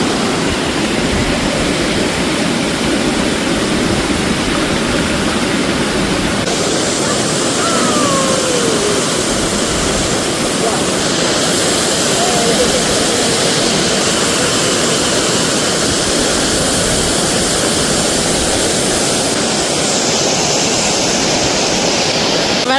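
Water pours down a waterfall at Kondotty in a dense, unbroken roar, loud and close throughout, with a faint voice briefly audible beneath it.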